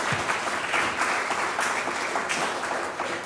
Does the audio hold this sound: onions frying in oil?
no